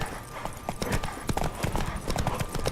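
Horse hooves gallop in The Witcher 3 video game, a fast steady clip-clop rhythm, close and fairly loud, with faint game sounds around it and no speech.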